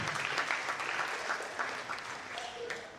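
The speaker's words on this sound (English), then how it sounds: "So please clap for yourselves" A conference audience at an international relations career forum claps for itself, a sustained, even round of applause from a sizeable crowd, with a faint voice near the end.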